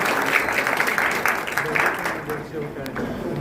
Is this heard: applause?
yes